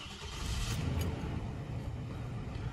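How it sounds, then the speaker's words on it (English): A car engine turns over and settles into a steady, low rumbling idle, close by and continuous throughout. "so I'm going to go ahead and start the car."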